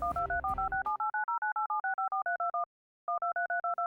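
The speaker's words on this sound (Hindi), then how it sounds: "आपका फोन लगातार बिजी जा रहा है, मैं कब से ट्राई कर रही हूँ आपका फोन" Busy signal on a telephone line: a rapid series of short two-tone beeps repeating in steady rhythm, with a brief gap before it resumes, starting under a moment of background sound.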